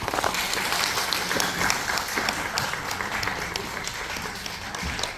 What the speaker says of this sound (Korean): 다시 한 번 더 우리 발표를 해주신 우리 봉준영 위원장님께 큰 박수 부탁드리겠습니다